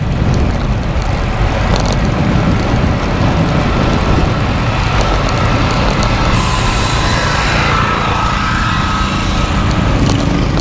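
Strong headwind roaring steadily across the microphone of a Cervelo road bike ridden on a country road, a loud, unbroken buffeting rush with no talk.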